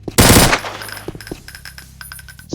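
A burst of automatic gunfire in a video game, a loud dense volley lasting under half a second, followed by scattered game sound effects and tonal electronic beeps.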